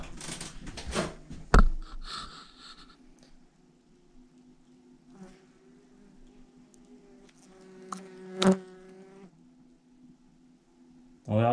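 German wasps buzzing in an attic after insecticide spraying: a faint, steady insect drone runs throughout, broken by a few sharp knocks and clicks, with no talking.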